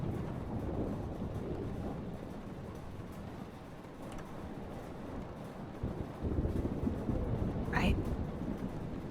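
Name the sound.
thunderstorm in the video game Life is Strange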